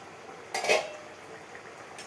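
Cooked snakehead fish curry scraped and poured from a metal pan, a brief clatter of metal and utensil in a quiet kitchen, with no talk.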